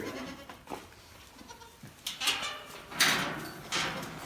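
Several alpine and mini goats bleat in short, nasal calls spaced a second or so apart, fairly close, with some wind and rustling in between.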